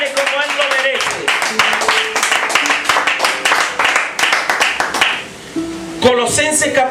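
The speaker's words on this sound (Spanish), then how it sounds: "Si lo va a aplaudir, apláudale como Él lo merece." Congregation clapping during a Spanish-language church sermon, loud rhythmic handclaps mixed with shouting voices and bursts of music, briefly dipping before a final surge.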